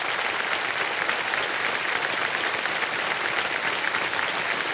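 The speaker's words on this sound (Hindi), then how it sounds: "जोरदार तालियां बजाते रहिए" Studio audience on the Indian quiz show KBC breaking into sustained, even applause, a thick steady roar of clapping hands throughout with no voices over it.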